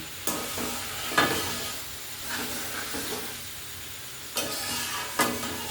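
Egg and green jackfruit curry frying with spices in a village kitchen, with a soft continuous sizzle broken by several sharp stirring scrapes and clatters of a spatula against the pan.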